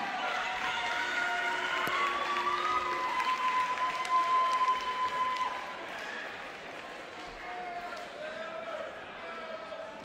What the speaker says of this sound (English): Ladies and gentlemen, round of applause for both warriors this evening.